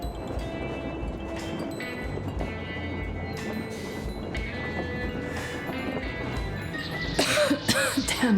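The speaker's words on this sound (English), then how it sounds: "Damn coughing." A character coughs repeatedly in the post-apocalyptic shooter Metro Exodus, harsh bursts over a low game ambience, with louder rough coughs near the end.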